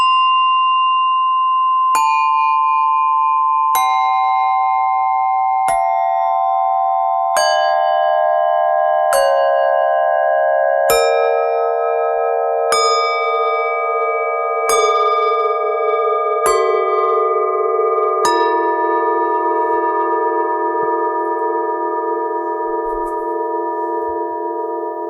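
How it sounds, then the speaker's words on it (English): Copper-clad bells, Burma bells, bell plates and gongs from a gong orchestra are struck one after another, descending a scale. Eleven or so clear metallic strikes ring out alone, each note sustaining and overlapping the next. "the copper-clad bells, the Burma bells, the bell plates, and the gongs that I use"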